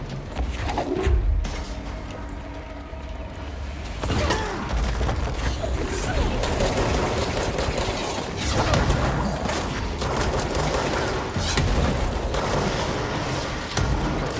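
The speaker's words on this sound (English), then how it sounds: "Damn, the rockets are just never ending." Rockets exploding in the video game Control: a continuous barrage of rumbling booms and crashing debris, loud and dense, with clattering mechanical noise throughout and no voices.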